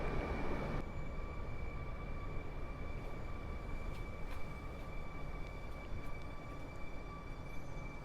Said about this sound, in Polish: A tu widzimy kolejny pociąg kolei mazowieckich z Łowicza do Warszawy Wschodniej.